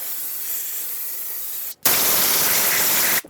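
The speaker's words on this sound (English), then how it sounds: "Spray this all down so we can get rid of any grease" Brake parts cleaner sprayed onto the rear brake parts of a 2018-2024 GMC Terrain, two close, loud hissing bursts, the second stronger, split by a short pause.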